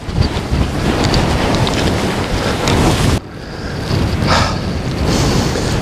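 Strong gusting wind of around 50 mph roars without a break across a stormy wild camp around a Collins Outdoors Strong Breeze tent, loud and buffeting, dipping briefly near the midpoint before surging again.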